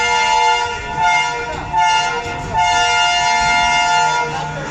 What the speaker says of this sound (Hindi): ये हॉर्न जो हुआ था लॉन्ग, फिर 2 शॉर्ट, फिर लॉन्ग, ये जंजीर पुल होने की निशानी है